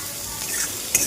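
Onions salted in a hot pan sizzle softly as they are stirred, giving a close, gentle frying hiss with a couple of small scraping touches near the end.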